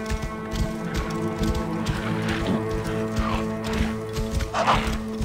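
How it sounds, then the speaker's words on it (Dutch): Horse galloping in the video game Assassin's Creed Origins, with rapid rhythmic hoofbeats and occasional whinnies over a steady game soundtrack and ambience. "Hoe ga ik dit paard zien te bemachtigen als het paard maar blijft rennen?"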